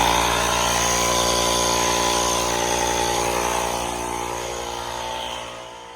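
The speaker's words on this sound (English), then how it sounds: "I have a little cheap Walmart tire pressure motor." A cheap Walmart tire inflator motor runs with a loud, steady mechanical buzz while pumping up a car tire, droning continuously and easing slightly lower toward the end, with no voices.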